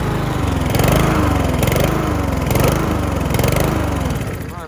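Roadside lawn mower engine in need of a carburetor clean, running after being pull-started: a loud, close, uneven putter with a pulsing throb that surges and sags, no talk.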